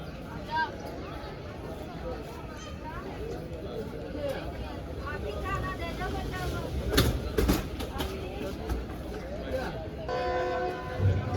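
A train departs Bahawalpur railway station on the Karachi to Lahore Pak Business Express, a steady rumble with clanks and a brief horn-like tone near the end, under continuous nearby chatter.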